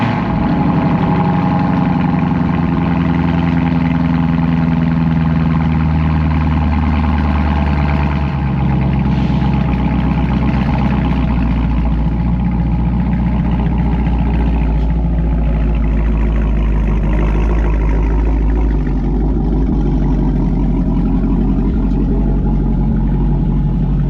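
Whipple supercharged Chevrolet Camaro firing up cold and settling into a loud, deep, lumpy idle, close up, with the rumble easing slightly as revs drop and no voices.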